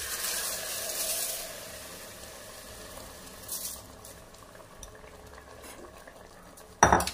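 Soaked rice and dal being stirred in a metal pot, soft scraping and swishing strokes close by, ending in a sharp clatter of a spoon against the vessel.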